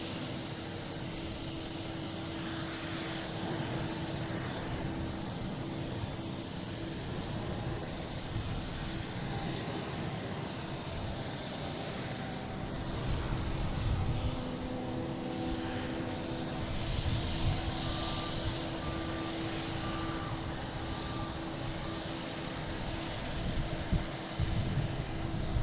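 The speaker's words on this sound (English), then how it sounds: "And JetBlue taking off, heading to Charleston." A JetBlue Airbus A220 airliner taking off from Boston Logan Airport, a continuous broad engine roar that holds steady and swells slightly toward the end, heard from a distance with no talk.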